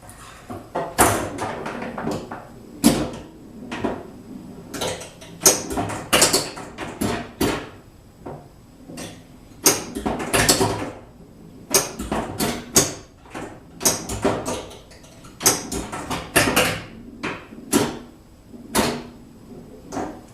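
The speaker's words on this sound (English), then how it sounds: "I'm going to play one ball to show you what it's like without the sound effects" Pinball machine played with its sound effects turned off, giving bare mechanical action: a steady run of sharp flipper clacks, ball knocks and bumper thumps in irregular bursts, fairly loud and close, with no voices.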